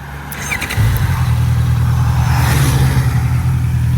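A loud Honda CBR650F motorcycle engine fires up and settles into a steady, rumbling rev, close by, with no talking.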